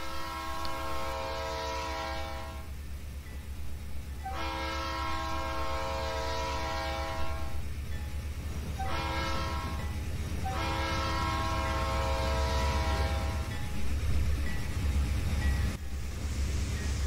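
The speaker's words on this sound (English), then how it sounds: "this NS northbound intermodal train was coming up the line" A Norfolk Southern northbound intermodal freight train in the Trainz railroad simulator sounds its horn in long-long-short-long blasts over a steady rolling rumble of passing cars, fairly near, with no talking.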